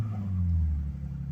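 A 2006 Ford Mustang salvage-auction car with a deployed airbag runs close by, its engine a steady low rumble that swells slightly and then settles at idle, with no voices.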